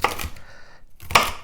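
A knife chops stuffed-pepper ingredients into small bits on a cutting board, close, sharp strokes at the start and end with a brief quiet gap between.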